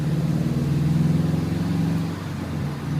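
A 2011 Subaru WRX engine hums steadily at low revs from inside the car while running through manual gears, a dense low drone that dips slightly around a shift and then settles again.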